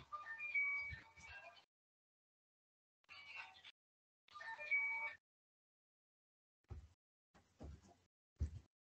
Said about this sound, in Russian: Что-то телефон шумел.